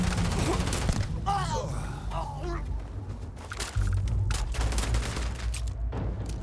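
Gunfire from the player's weapon in the sci-fi game Starfield, dense rapid bursts of shots mixed with in-game effects and voices, loud and continuous throughout, with someone talking over it.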